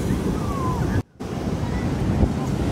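Ocean surf on a cool, cloudy California spring coast makes a steady broad wash with wind buffeting the microphone, briefly cut off by a short gap before the roar resumes.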